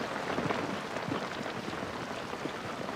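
Heavy rain pours down steadily on an alien planet in a Battlestar Galactica episode, a dense constant hiss with no voices over it.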